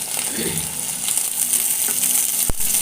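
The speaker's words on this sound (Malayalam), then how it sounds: "ഈ വെണ്ടയ്ക്ക വാട്ടുമ്പോൾ ഒരു രണ്ട് മൂന്ന് വെണ്ടയ്ക്ക എടുത്തിട്ടുള്ളൂ കുറച്ച് ചെറിയ ഉള്ളിയും കൂടി നമ്മൾ വാട്ടിയെടുക്കുന്നുണ്ട്" Sliced okra and small shallots sautéing in oil in a pan for sambar, a steady close sizzle with a single sharp clink of a utensil near the end.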